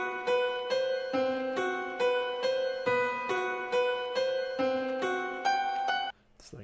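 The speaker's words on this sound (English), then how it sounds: "It's like this really ignorant and dark piano." A dark, brooding piano loop built for a hip-hop beat: repeated low chords and a melodic line struck in a steady rhythm, each note ringing and decaying before the next, loud and alone, ending abruptly.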